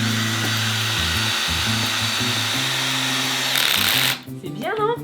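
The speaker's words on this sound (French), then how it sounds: "Allez, on va visser." A power drill runs steadily and loudly while screws go into a twin bed frame, its pitch stepping up and down as the load changes; it stops near the end and voices follow.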